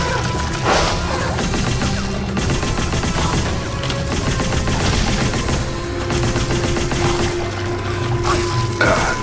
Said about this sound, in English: I just wanted to try out that gun